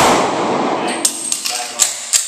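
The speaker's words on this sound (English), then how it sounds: "Then I'm turning and sending my slide forward" A pistol reload ending with the slide sent forward, a rustling handling noise followed by several sharp, close metallic clacks and snaps, with no talk.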